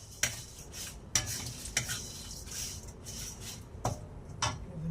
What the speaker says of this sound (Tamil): ஒன்றரை டம்ளர் மல்லியும் மிளகாயும் போட்டு லோ சிம்மில் வச்சு பொறுமையாக வறுக்கணும்